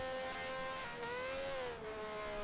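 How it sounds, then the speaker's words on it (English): A 1971 Formula One car engine in a racing video game holds a steady high whine that wavers and sags as it gives out on the straight, heard faint and alone. "Oh, the engine let go."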